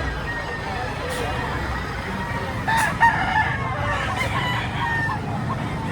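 A rooster crows briefly amid clucking fowl at an outdoor place where chickens are sold, fairly near but partly masked by a constant background hubbub and murmuring voices.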